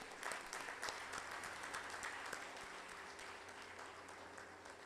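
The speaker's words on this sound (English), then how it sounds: "Please give them a round of applause once again." Sustained audience applause at a university alumni reunion celebration, a dense steady wash of many hands clapping that holds for the whole stretch and tapers only slightly at the end.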